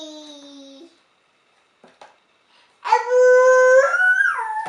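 A voice imitates a dog howling. A short wavering tone comes first, then a long, loud, sustained howl that bends downward at the end.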